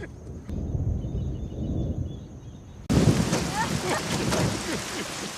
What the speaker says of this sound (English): the thunder came and the rain began pouring